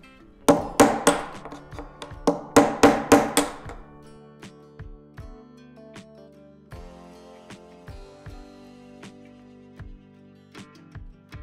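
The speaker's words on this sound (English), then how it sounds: "we're gonna start knocking the rings off the barrel" A ball peen hammer strikes a stainless steel rod to drive the metal rings off a whiskey barrel, first a quick run of loud ringing metallic blows, then slower, lighter taps with lingering resonant tones.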